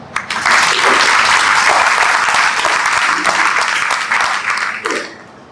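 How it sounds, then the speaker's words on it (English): Audience applause at a film screening and discussion event, a dense burst of clapping from a crowd that rises quickly, holds loud and steady for about four seconds, then tapers off. "Round of applause."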